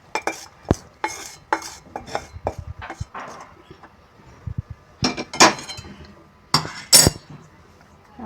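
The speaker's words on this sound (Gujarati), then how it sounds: "હવે આપણે આ વેજીટેબલ એડ કરીશું" Vegetables being tipped and stirred into a pan for a railway-style veg cutlet, with a run of scraping, clinking utensil strokes against the pan at a steady, fairly close rhythm and no talk.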